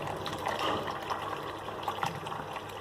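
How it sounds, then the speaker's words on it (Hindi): Water poured into mashed lentil dal in a cooking pot, a soft, continuous liquid pouring and gushing sound, fairly quiet and close, with no talking over it. "इसमें डालेंगे पानी।"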